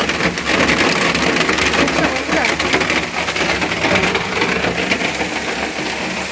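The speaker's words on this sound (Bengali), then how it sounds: "ঝমঝম করে বৃষ্টি চলে এলো" Heavy rain pours down in a loud, continuous hiss with dense pattering, steady and unbroken.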